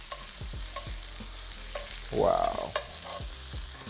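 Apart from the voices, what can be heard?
salmon fillets frying in a pan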